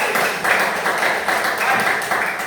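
A group claps for a student in a classroom, a dense, continuous patter of many hands close by that swells and eases slightly in waves, with no talking over it.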